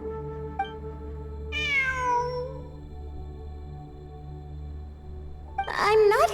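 A cat in the video game Genshin Impact gives two distinct meows, a long falling one early and a sharper one near the end, over a low steady background drone.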